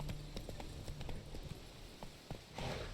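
A horse galloping in The Witcher 3: rhythmic hoofbeats clopping at a steady pace, fairly faint against a soft outdoor background, with no voices.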